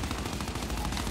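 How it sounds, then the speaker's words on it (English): Rapid gunfire from the shooter video game Gears 5, a dense continuous burst of automatic shots and game effects filling the whole moment at steady loudness, with no talking. "I'm getting shot from mid."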